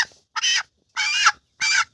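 A sick farm chicken, one of a flock with coryza, gives three short clucks spaced about half a second apart, close and clear against a quiet background.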